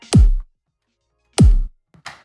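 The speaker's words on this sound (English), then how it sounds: "Now let's take a look at a commercially available kick drum sample." A house kick drum sample from the Cymatics free pack strikes twice, each hit a punchy thump with a fast downward pitch sweep into a deep booming tail, spaced about a second and a quarter apart, followed by a short faint click.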